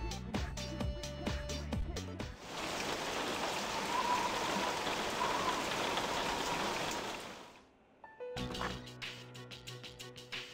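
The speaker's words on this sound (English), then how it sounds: "You are drenched from the rain." Steady, dense rainfall from the video game Persona 3 Portable, a loud continuous hiss lasting about five seconds between stretches of game music, then fading out.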